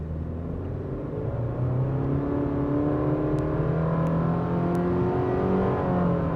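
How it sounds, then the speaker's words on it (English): A 2026 Subaru Forester Premium pulls away at half throttle, its engine note climbing in a smooth, steady whir and rumble that grows louder after the first second and holds, heard from inside the cabin without talk. "Yeah, half throttle, it gets up and goes very well."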